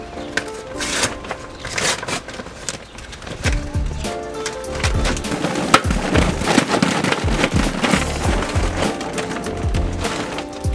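Wood fire burning in a grill, a loud, close, dense crackle with rapid irregular pops and snaps running continuously throughout.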